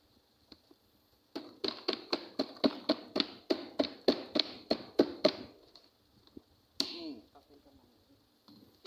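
A container holding sago palm weevils is tapped by hand about a dozen times in a quick, even series of crisp, close knocks. A sharper knock comes after a short pause.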